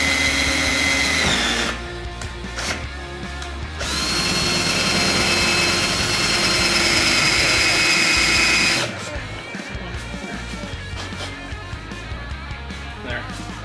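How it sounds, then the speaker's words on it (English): A power drill or rivet tool works on a DIY bubble cowl hood, loud droning bursts that start and stop over several seconds, close to the microphone with constant shop noise. "Now we're gonna throw some rivets in there."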